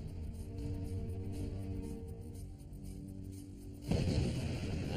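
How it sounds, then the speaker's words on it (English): The reactor number three building at a Japanese nuclear plant explodes, a sudden loud broadband blast that bursts in near the end after a low rumbling hum and keeps roaring on. "an even larger explosion blows the building that houses reactor number three apart"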